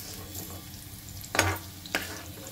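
Green chillies frying in mustard oil in a pan for a ridge gourd and tomato chutney, a soft steady sizzle broken by two sharp stirring scrapes close by.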